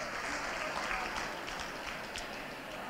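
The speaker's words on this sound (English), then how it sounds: "A special round of applause for them." An audience at a Strictly dance competition winners' announcement in Silvermines applauds, a steady dense patter of many hands clapping, moderately distant and sustained throughout.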